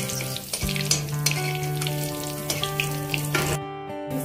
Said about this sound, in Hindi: इसमें मैं सब्जियां ऐड कर रही हूँ।